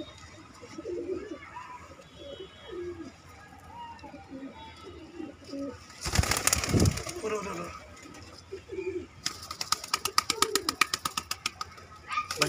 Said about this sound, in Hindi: देख लो सारे कबूतर सेल में है भाई